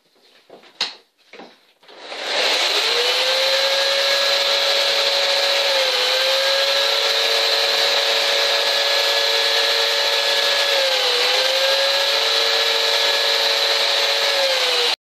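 A power sander starts up after a few knocks and runs loud and steady on a varnished chainsaw-carved wooden figure, a constant high whir with slight pitch dips as pressure shifts.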